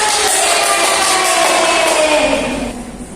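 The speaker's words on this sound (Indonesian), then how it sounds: "Tepuk tangan." A classroom of students breaks into applause for a classmate, a dense, steady wash of many hands clapping together that thins out toward the end.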